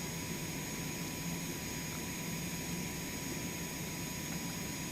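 Cessna Citation X business jet on its takeoff roll with five degrees of flap, a steady, loud broadband engine roar with a high turbine whine held evenly throughout, no pauses or voices.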